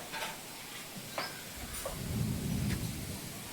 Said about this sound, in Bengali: এই যে এখন মেঘ চমকাচ্ছে